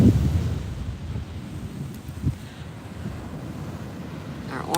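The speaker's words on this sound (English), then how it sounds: "Love the sound of the waves." Atlantic Ocean surf before sunrise, a steady low wash of breaking waves with wind buffeting the microphone, one slightly louder surge midway, no talking.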